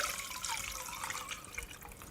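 Vegetable stock made from powdered gluten-free bouillon and boiling water is poured into a soup pot for pumpkin spice soup, a close, continuous splashing pour throughout.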